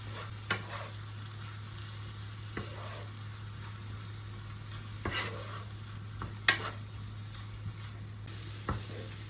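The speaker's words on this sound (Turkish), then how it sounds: "Ve soğanlarla birlikte kıymaları da güzelce kavuruyorum." Minced meat and onions with red pepper powder and black pepper stir-frying in a pan, a steady low sizzle broken by occasional scrapes and clinks of a spoon against the pan, no voices.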